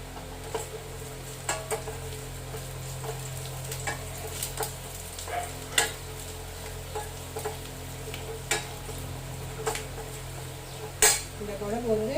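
Garlic sautéing in a pan for a Tamil garlic curry, with a utensil scraping and clinking against the pan in irregular taps over a low, steady background hum; no voices.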